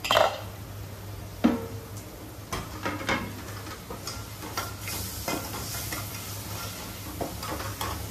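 Mutton pieces in sauce drop into hot oil in a kadhai, giving a steady sizzle with scattered stirring clatter and scraping against the metal pan, close and continuous.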